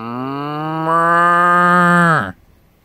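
A cow moos once, a long, loud, close bellow lasting about two seconds that rises in strength midway and then drops off abruptly, heard outdoors near Magnetic Hill with no talking.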